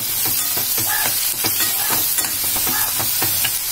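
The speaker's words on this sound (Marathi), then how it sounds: "एकदम छान कांदा मऊ होऊन गुलाबी होईपर्यंत भाजूया" Onions fry in a pan for prawn curry, a dense hissing sizzle broken by repeated scraping strokes of stirring, close and steady throughout.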